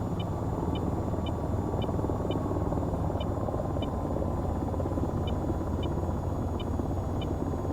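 A video-game helicopter engine rumbles as a steady, dense low roar, with faint evenly spaced electronic beeps ticking over it throughout.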